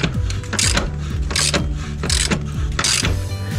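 Ratchet wrench on a bolt of a Suzuki V-Strom motorcycle during chain and sprocket work, a loud, close series of rhythmic clicking strokes, four or five regular pulls with no talk.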